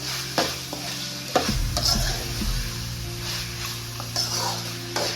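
Marinated chicken frying in a pan for a spicy gravy fry, stirred steadily: a constant close sizzle with scraping knocks of the spoon against the pan, louder bursts near the start and end.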